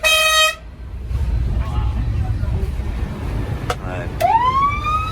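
A Kenworth W900L truck's air horn blasts loudly for about half a second at the start, followed by road and cabin rumble and a couple of later rising horn-like tones.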